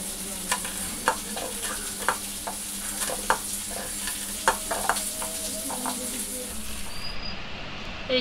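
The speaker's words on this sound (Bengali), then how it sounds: "এই যে করলা আর কাঁকরোল দিয়ে ভাজা বসিয়ে দিয়েছি" Bitter gourd and spiny gourd fry in a pan with a continuous sizzle, broken by regular sharp scrapes and clinks of stirring, and a faint voice in the background.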